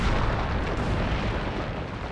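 Blasting explosion leveling an entire hill to clear the ITER fusion reactor site in the south of France: a sustained, loud, broadband rumbling roar that stays dense and steady throughout with no talk.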